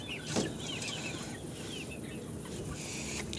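Bantam hens and young chickens cluck softly in a farmyard at evening, low continuous chatter with a brief louder note near the start, no talking.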